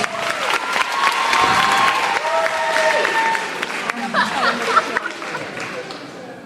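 A high school audience at a hypnotist show claps steadily for a few seconds, mixed with cheers and murmured chatter, then the applause thins out.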